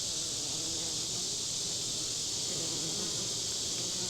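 Honeybees buzz at a beehive in a dense, steady hum recorded close up, constant and fairly faint, with no talk.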